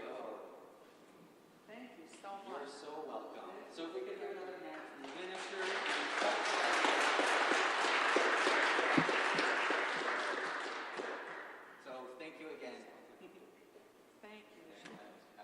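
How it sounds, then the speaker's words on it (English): Audience applause at a federal and provincial broadband announcement swells from about five seconds to a sustained peak and fades, with voices speaking before and after it. "Why don't we give another round of applause to our guests"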